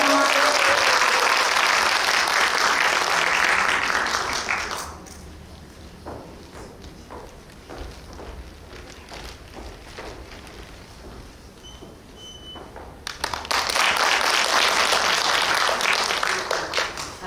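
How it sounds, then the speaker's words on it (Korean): Loud audience applause at a Korean childcare association conference in Suncheon. It fills the hall, fades to scattered footsteps and shuffling in the middle, then swells again into full clapping. "뜨거운 박수 부탁드리겠습니다."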